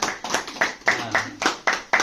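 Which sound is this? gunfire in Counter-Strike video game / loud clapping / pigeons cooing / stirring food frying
loud clapping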